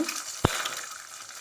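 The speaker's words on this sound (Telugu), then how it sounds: "ఆమ్లెట్ వేసుకునేటట్టు వేసుకోవాలి ఇలా రెండు గుడ్లు ఇలానే వేసుకోవాలి" Two beaten eggs are poured into a hot pan like an omelette and give a steady hiss of frying, with one brief sharp knock partway through.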